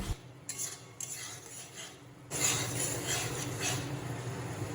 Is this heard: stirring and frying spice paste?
yes